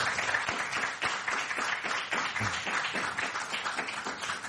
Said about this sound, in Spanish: les pido por favor un aplauso para don Miguel Anxo.